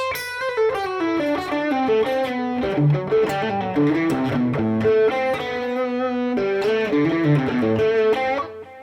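Continuous distorted electric guitar licks in the Dorian mode run in a flowing melodic line over steady lower notes, loud and unbroken with no voices.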